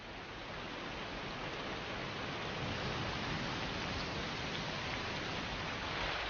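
A rainstorm sweeping over the Hebrides in Scotland, a steady, dense roar of falling rain that holds at an even level throughout with no voices.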